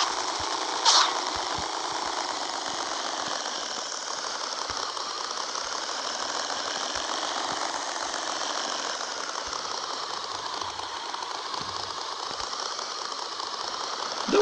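A motorcycle engine in the video game Rules of Survival drones steadily, a continuous buzzing hum with a faint knocking texture, heard alone with no talk.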